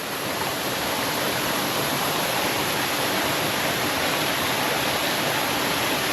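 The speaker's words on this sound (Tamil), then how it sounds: "இதுதான் ஃப்ரெண்ட்ஸ் பஞ்சம்பள்ளி ஃபால்ஸ்." Panchampalli waterfall pours in a dense, steady, loud roar of falling water with no pauses, heard close and alone.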